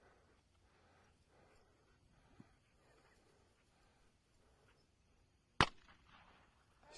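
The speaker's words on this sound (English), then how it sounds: "As soon as the gun goes off, he's taking off" A single sharp gunshot cracks out during gun dog training of a gun-shy dog, sudden and loud against an otherwise quiet outdoor background with faint rustling beforehand.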